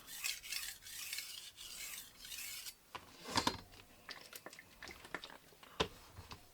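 Wusthof kitchen knife stroked across a VENEV diamond sharpening stone, soft gritty rasping strokes in an irregular back-and-forth rhythm, close but quiet.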